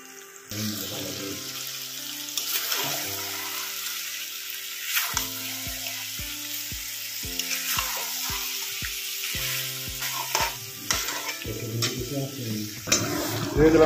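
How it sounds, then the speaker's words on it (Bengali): Pork sautéing with onions and spice paste in a pan crackles and sizzles unevenly, while nearby clinks and occasional tonal background sounds break in and out. "এবার মশলাটার সাথে ভালো করে কষিয়ে নেব।"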